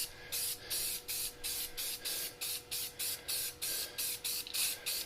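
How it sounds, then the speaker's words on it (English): An aerosol can sprays paint onto a carved wooden Christmas door hanger in about a dozen short, evenly spaced hissing bursts, each lasting under a second, close and fairly quiet. "We're going to do a little spraying and we'll see how it turns out."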